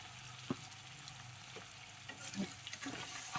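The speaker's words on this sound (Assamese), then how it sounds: "এতিয়া ঠিকছে ভাজি কিনি তেল ওলাই থ'ব লাগিব আকৌ" Chilli powder, ginger and garlic sizzle quietly in hot oil with a few soft stirring scrapes, a low steady frying hiss close by.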